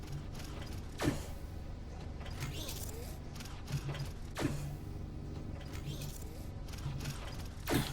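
Game factory machinery in Infinifactory stamps and welds blocks, giving repeated mechanical clanks and whirring clunks at steady intervals over a busy industrial hum, moderately loud with no talking.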